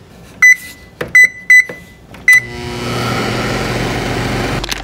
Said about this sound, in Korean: 전자레인지에다가 한 2분 정도 데워가지고 그냥 먹으면 될 것 같아요